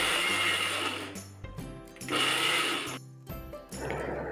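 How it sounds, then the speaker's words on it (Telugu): Mixer grinder pulsing garlic and mango pickle in short bursts: three loud whirring grinds, each cut off with a brief pause before restarting. "గ్రైండ్ చేసేటప్పుడు ఒకటేసారి మిక్సీ తిప్పకుండా బ్యాక్వర్డ్ తిప్పుకుంటూ చేసుకుంటే దంచినట్లుగా వస్తుంది."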